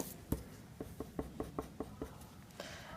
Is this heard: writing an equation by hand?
yes